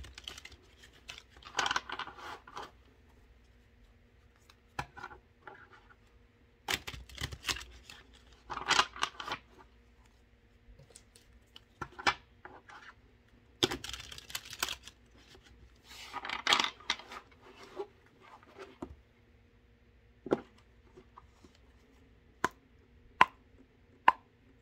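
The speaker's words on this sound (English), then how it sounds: "Let's just shuffle the cards 3 times" Tarot cards are shuffled in several bursts of riffling and flicking, close and fairly quiet, with sharp taps and pauses between bursts.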